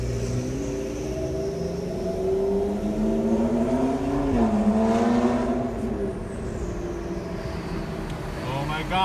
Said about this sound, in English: Oh, that is loud! Aftermarket exhaust.